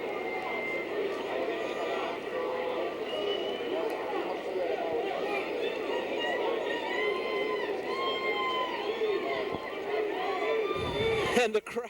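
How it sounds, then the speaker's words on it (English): A pro boxing crowd roars and cheers continuously after a knockout, dense and steady throughout, with a short sharp burst right at the end. "And the crowd is just eating this up."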